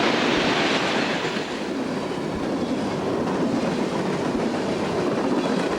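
A long freight train of DuPont chemical tank cars and empty Purdue Farms grain cars rolls past near the Juniata River, a steady, loud rumble of wheels and rattling cars with no break.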